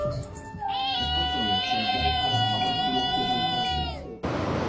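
A cat meows in a long, drawn-out, talking-like call lasting several seconds, loud and close, ending abruptly before a burst of noise.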